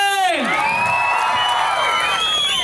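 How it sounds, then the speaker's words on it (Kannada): A large crowd cheers and whoops loudly at a 50th birthday celebration for Puneeth Rajkumar, with shouts rising over dense, continuous crowd noise and a sweeping whistle-like cry at the start. "ಬರ್ಲಿ ಒಂದು ಜೋರ ಚಪ್ಪಾಳೆ."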